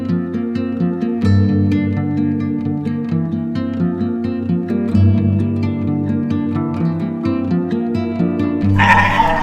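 A sheep bleats repeatedly in its pen, the calls loud and close and fairly constant, with a burst of noise near the end.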